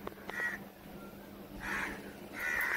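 Crows caw in a few separate calls, one early, one midway and a longer one at the end, moderately distant over a quiet outdoor background as rain sets in and the weather turns cool.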